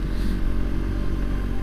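A Suzuki GSX-S150 motorcycle engine runs loud and close with a rough, continuous rumble and slight rising revs, steady throughout with wind noise and no speech.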